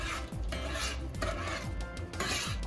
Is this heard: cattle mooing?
no